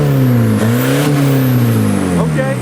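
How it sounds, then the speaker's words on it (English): A car engine revs loudly and close, its pitch sliding up and down in a strong droning whine that fills the moment. "Dude, rev it up."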